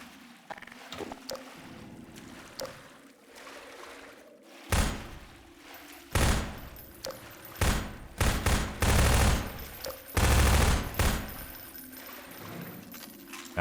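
Gunfire in the PC game Half-Life 2: bursts of loud shots in irregular clusters over a low game ambience, near and punchy, with quieter gaps between volleys.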